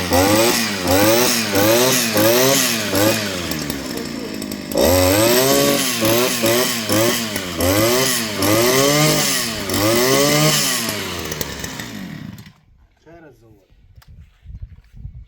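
Petrol brush cutter engine running after being started, loud with a revving, pulsing rhythm that rises and falls, then cuts out abruptly near the end, leaving faint quiet sounds.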